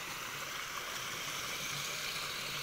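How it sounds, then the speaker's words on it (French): A small stream flows beside a residential street in Chōfu, Japan, giving a steady, even rush of running water that holds constant throughout, with no talking. "Tu longes un ruisseau, fleuve et"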